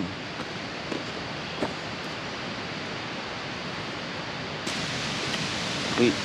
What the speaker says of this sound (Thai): เสียงน้ำตกแรงเหมือนกันนะเนี่ย ใช้ได้เลย